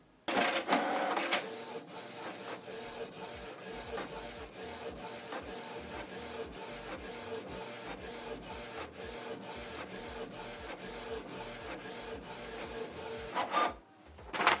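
A Canon Pixma TS3752i inkjet printer prints a document steadily, its print head shuttling back and forth with regular clicks and whirring passes, closing with a louder feed noise.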